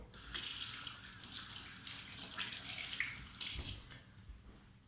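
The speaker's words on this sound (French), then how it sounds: "je vais me laver les mains, hein, 2 secondes." A kitchen tap runs while someone washes their hands, giving a steady close splashing stream with louder bursts as the hands move under the water.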